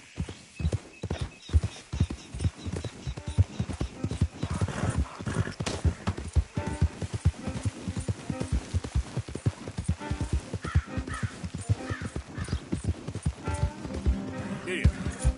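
Horse hooves clip-clop at a steady gallop in Red Dead Redemption 2, close and continuous with a brief whinny, while a rider calls out over the hoofbeats.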